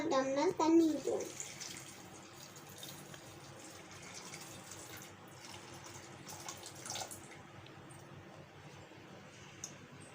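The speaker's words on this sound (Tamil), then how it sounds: "இப்போ நம்ம அதுக்குள்ள ஒரு டம்ளர் தண்ணி ஊற்றுவோம்." A tumbler of water is poured onto sorghum corn kernels with a brief splashing gush at the start, followed by faint trickling and quiet background sounds.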